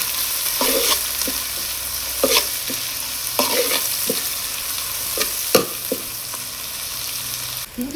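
Cinnamon, cloves, cardamom, shallots, curry leaves and sliced onion sizzle in hot oil for a village-style chicken kurma, a steady frying hiss broken by several loud scrapes and clanks of a stirring spoon against the pan.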